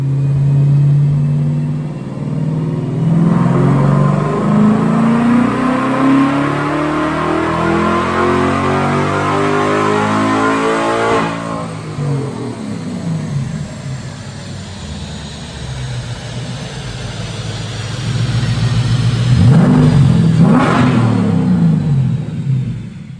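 A Coyote-swapped Ford Mustang S197 makes a dyno pull, its V8 climbing in loud rising revs for about ten seconds, dropping back, then a second sharp rev burst near the end, close and alone.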